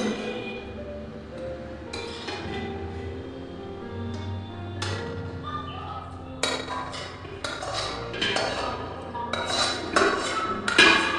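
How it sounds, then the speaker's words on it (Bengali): Whole chicken pieces tipped into a pot for Hyderabadi chicken biryani, heard as repeated clinks and scrapes of metal utensils against the cookware, growing louder and busier toward the end, with no talking. "এবার আমি এর মধ্যে পুরো চিকেনটা দিয়ে দিচ্ছি।"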